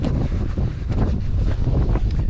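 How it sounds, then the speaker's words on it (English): Strong wind buffets the microphone on a lake bank on a late-winter day, a loud, steady rumbling gust noise that fills the whole moment with no voices. "It is windy"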